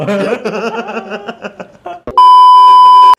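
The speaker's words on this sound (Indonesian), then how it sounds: "Ini ada HP bunyi" A mobile phone gives a loud, steady electronic beep that holds for about a second, following a man's speech and light laughter.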